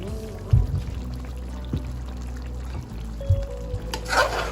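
Chicken frying in oil in a karahi pan with occasional stirring clatter and a few sharp knocks, a steady low sizzle throughout and a brighter hiss near the end.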